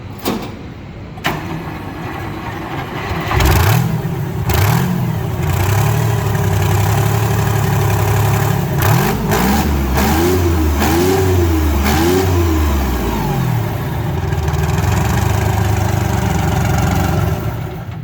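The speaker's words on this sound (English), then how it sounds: "Look at the size of the motor on this thing, this V12." A V12 rat rod truck with 4-inch zoomie exhausts at an outdoor car show in Tulsa, loud and close: a rough idle, then a series of deep revs that rise and fall, with no talk over it.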